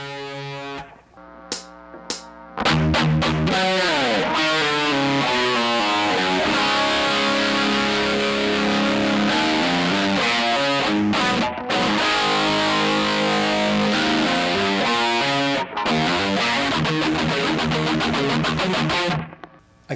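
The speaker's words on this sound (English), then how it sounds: "Play the hammer-on riff again, open 2-4," Distorted electric guitar plays a hammer-on riff, moving between open A5 and fretted notes on the lower strings, loud and continuous with quick rhythmic hammer-ons and brief pauses between phrases.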